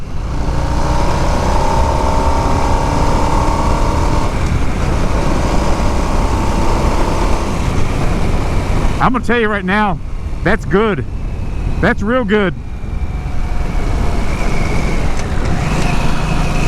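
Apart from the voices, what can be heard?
motorcycle engine during test ride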